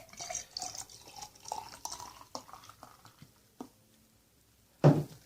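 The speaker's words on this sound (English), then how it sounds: "Let me pour it in here." A drink is poured into a glass with a close, trickling, gurgling stream that tapers off, followed after a pause by one loud knock or clink.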